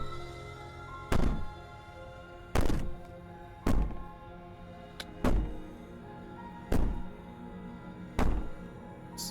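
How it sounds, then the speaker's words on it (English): Heavy banging on a door in the video game Slay the Princess: six loud, hollow thuds spaced about every one and a half seconds, each ringing out briefly before the next, with no talk. "Maybe the banging and wailing will stop if you just don't pay attention to it."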